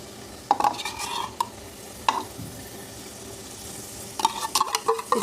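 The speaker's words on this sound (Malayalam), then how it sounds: "ഇതിലേക്ക് നമുക്ക് ഒരു ഉള്ളി പൊരിച്ചിട്ടിട്ട് കൊടുക്കണം, അണ്ടിപ്പരിപ്പ് മുന്തിരിയും ഒക്കെ." Onions, cashews and raisins frying in a pan for prawn biryani, with a few bursts of scraping stirring and light sizzle separated by quieter gaps.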